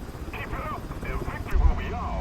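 An MH-60L DAP helicopter flies in the War Thunder video game, its steady rotor drone with a brief low thump running beneath a voice.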